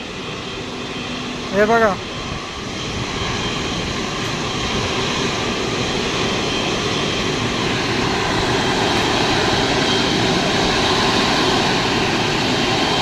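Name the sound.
IndiGo airplane taking off at Mumbai airport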